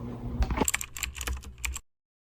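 Quick bursts of keystrokes on a computer keyboard as a Linux command is typed, close and clear, an irregular run of clicks ending abruptly in silence.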